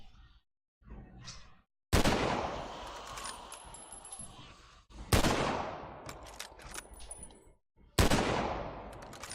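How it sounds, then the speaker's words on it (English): Rifle gunfire in the PS3 video game Walking Dead Survival Instinct: three loud, sharp shots spaced a few seconds apart, each ringing out and decaying, with quiet gaps and faint game sounds between them. "let's just use up the rifle"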